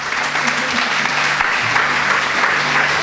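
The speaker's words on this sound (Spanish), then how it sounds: "Dale un aplauso a ese Dios poderoso que tienes." A church congregation claps at a worship service, sustained dense applause from many hands filling the room at steady strength throughout.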